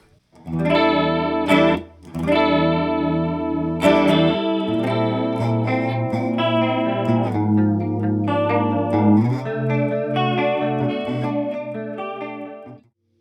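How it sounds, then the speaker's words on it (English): Electric guitar chords ring out through a thick, wide chorus from a Moogerfooger MF-108M Cluster Flux pedal, strummed in a steady pattern with a swirling, shimmering tone, loud and close. "here's what it sounds like with Cluster Flux doing a nice thick chorus"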